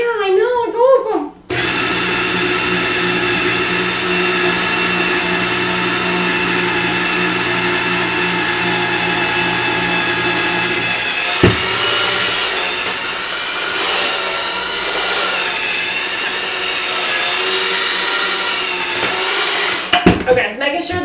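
A stand mixer motor whirs loud and steady for about twenty seconds, a high mechanical hum with harmonic whine. It starts abruptly and stops near the end, with brief clatter around each.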